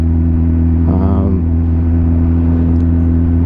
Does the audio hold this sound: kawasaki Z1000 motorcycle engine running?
yes